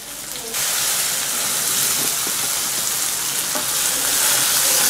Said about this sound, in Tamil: நல்லா ஃப்ரை ஆகிட்டுருக்குது.